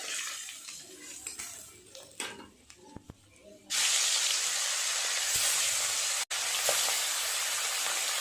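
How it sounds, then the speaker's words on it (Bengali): Small hilsa fish frying in hot oil, a loud steady hiss and sizzle that jumps up suddenly and continues closely after quieter clattering. "তুলে নিয়ে বাকি মাছগুলো ভেজে নেব"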